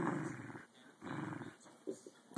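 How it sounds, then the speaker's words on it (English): Eskimo dogs, an adult and a puppy, growl while playing tug, with rough low growls in bursts separated by short pauses, close and moderately loud. "That's a big mean dog."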